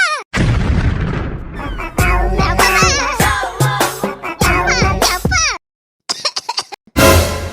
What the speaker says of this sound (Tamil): அதுவும் வயசான காலத்துல பாவம் எங்க அம்மா இருமிட்டு இருக்காங்க